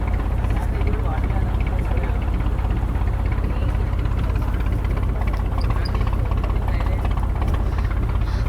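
A boat engine picking up speed on the Krishna River: a steady, loud, low motor drone that continues throughout, with a voice talking over it.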